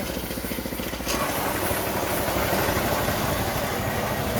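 A diesel engine on a two-tier rice harvester runs steadily, with a loud low rumble throughout and a brief shift in tone near the start as it is put into gear.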